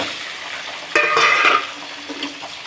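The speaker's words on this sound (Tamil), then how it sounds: "பூண்டு நல்லா வதங்கட்டும்" Garlic sizzles in hot oil in a pan for a tamarind-style kuzhambu, as a utensil stirs it with a brief louder scrape and hiss midway and a steady soft frying crackle before and after.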